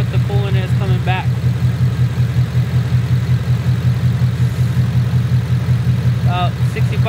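A 2019 Ford Mustang engine idles with a steady low rumble throughout, close by and loud, while brief bits of a man's speech come through over it.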